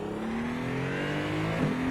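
A hypercar engine revs in a racing video game set at the Nürburgring, a steady rising tone with a short shift-like blip near the end, fairly faint and alone.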